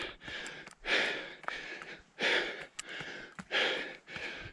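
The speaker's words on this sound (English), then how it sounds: "You can now hear my breathing change." Heavy, rhythmic breathing with loud, regular inhales and exhales, close to the mic, like someone working hard during a run.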